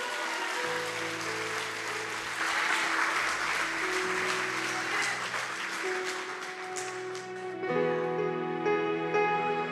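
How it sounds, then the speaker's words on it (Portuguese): A church congregation claps at a worship service over sustained music with held tones, forming a dense, even wash of applause at moderate level that swells midway. "dê uma salva de palmas ao Senhor"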